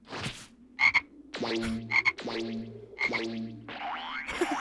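In the Dragon Ball Xenoverse 2 video game, a toad croaks repeatedly in deep, resonant bursts at a steady rhythm, interspersed with bright chiming game effects.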